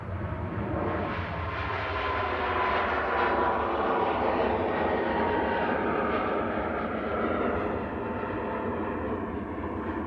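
Ryanair Boeing 737 MAX 8200 jet taxiing at Manchester Airport, a steady loud engine whine and rumble that swells gently and holds throughout.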